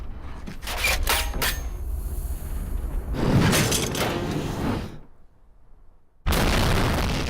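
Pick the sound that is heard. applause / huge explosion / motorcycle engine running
huge explosion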